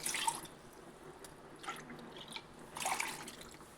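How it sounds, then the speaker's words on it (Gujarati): Water poured into a pot holding jaggery, with a few short bursts of splashing and dripping separated by quiet gaps, close and fairly soft. "અત્યારે તેની સાથે આપણે 2 વાટકા ભરી પાણી નાખશું."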